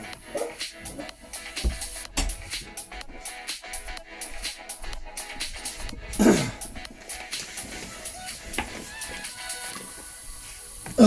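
An old dog barks indoors at a slight noise, with sharp broadband bursts scattered across the clip, one louder burst midway and another at the very end, over a busy background.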